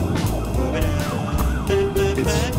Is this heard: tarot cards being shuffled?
no